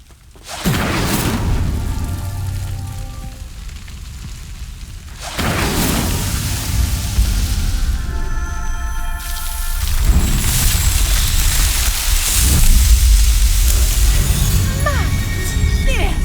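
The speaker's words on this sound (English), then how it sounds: "The flames make the pyres sink." In Hogwarts Legacy, a fire spell sets pyres ablaze and makes them sink, with deep booming whooshes and rumbling crashes that surge in repeated waves, loud and full, under game music and effects.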